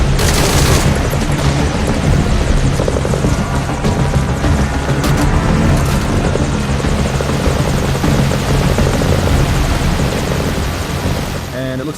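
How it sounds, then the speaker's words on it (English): A helicopter in Metal Gear Solid 5: Ground Zeroes takes fire. A dense, constant rotor roar fills the whole stretch, with sharp bursts of gunfire and impacts cutting through it. "it looks like our chopper is going down"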